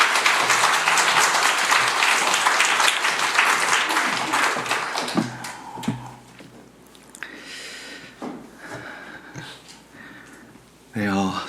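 A church congregation at a Friday prayer service bursts into loud, sustained applause to welcome the pastor, the clapping fading after several seconds as a voice begins speaking.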